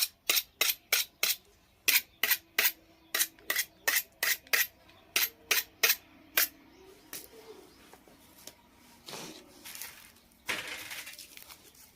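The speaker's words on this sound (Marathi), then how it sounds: "भाज्याला कांदा कापते की" An onion being chopped with a knife on a board in a home kitchen, as a rapid run of crisp, regular chops for about six seconds, followed by quieter rustling and handling sounds.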